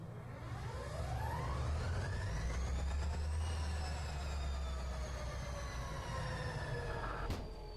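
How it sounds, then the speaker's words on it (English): DE6 diesel locomotive engine in Derail Valley cranking and spinning up, its whine rising steadily in pitch over several seconds over a loud, constant low rumble, then settling into a steady idle drone. "That's how you start the engine in the first place."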